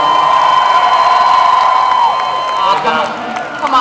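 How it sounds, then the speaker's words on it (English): Crowd at a roller derby bout cheering for the DC Demon Cats, a loud, steady wash of yelling and whoops filling an arena, with a sustained tone and a voice over it. "Let's hear it if you're a DC Demon Cat fan out there in the crowd."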